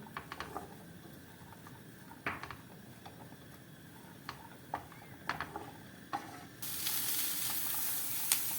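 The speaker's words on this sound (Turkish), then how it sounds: "Biraz bu kavrulsun." Faint, quiet sizzling with scattered ticks and pops as chopped onion sautés gently in oil in a pan, with a louder hiss arriving near the end.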